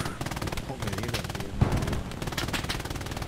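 Rapid bursts of machine-gun and rifle fire in Hell Let Loose, sustained and fairly close, crackling throughout with a louder shot near the middle, under a player talking.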